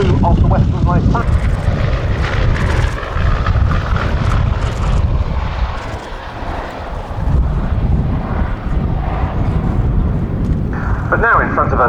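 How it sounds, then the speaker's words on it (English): A Bristol Blenheim 1F twin-engine aircraft performs at the Duxford Battle of Britain air show, its loud, steady engine drone filling the air with wind buffeting the microphone as a voice talks over it. "But now in front of us, the Bristol Blenheim 1F."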